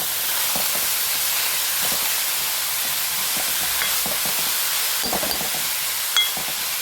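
Banana stem stir-fry with a little turmeric being stirred in a hot pan, a steady close sizzle and hiss with soft scraping stir strokes throughout.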